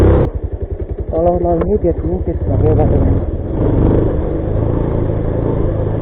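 A motorcycle engine rumbles steadily on a road near Bane Pokhari pond, with brief revving early on, while someone talks over it throughout.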